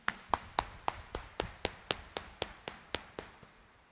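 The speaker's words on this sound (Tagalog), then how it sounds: "itaas ang kamay at pumalakpak ng mas malakas" At an early-morning mass in Quiapo Church, hands clap loudly about a dozen times at a steady, even beat. Each clap is sharp and distinct against a quiet background.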